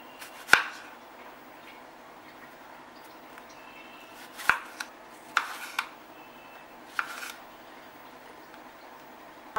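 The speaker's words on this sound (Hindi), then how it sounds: "टमाटर को बस रफली चॉप कर लेना है।" A knife roughly chops tomatoes on a board, a handful of sharp, isolated knocks spaced irregularly over quiet background, close and fairly faint.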